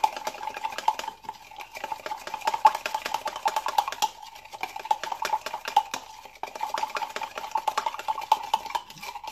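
A utensil scrapes and taps steadily against a bowl while mango salad dressed with sesame oil, salt and sugar is stirred. The quick, continuous, fairly faint rhythm runs close up, with no talking.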